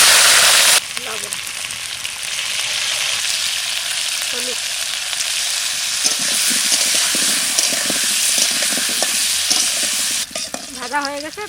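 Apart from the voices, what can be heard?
potatoes frying in mustard oil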